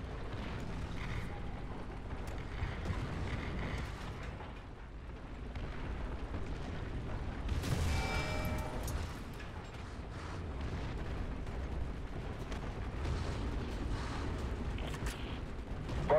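Artillery in a video game thunders as a deep, continuous rumble of heavy explosions, with a sharper burst cracking out near the middle over the steady low roar.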